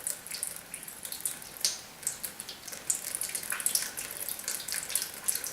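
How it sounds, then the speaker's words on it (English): Water from a neti pot trickles and splashes out of a nostril into a sink, a steady faint pattering with scattered drips and no talking. "you feel the water coming out of the opposite nostril"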